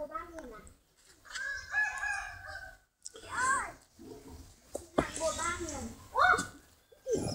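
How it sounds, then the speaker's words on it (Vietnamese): A chicken crows loudly and nearby in several drawn-out calls, mixed with clucks and a voice talking in between. "500 anh em hãy nghe tiếng gà hót."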